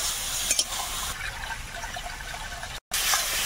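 Water added to an egg curry simmering in a pan, a soft continuous pouring and trickle over a low sizzle, with a brief dropout near the end.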